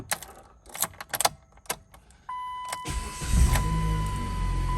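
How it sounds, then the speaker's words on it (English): A Dodge Caliber being worked on for a crankshaft position sensor fault and misfire, with clicks and faint clatter before a starter whir as the engine restarts and settles into a steady idle hum with a high whine. "we'll cycle the engine and restart it"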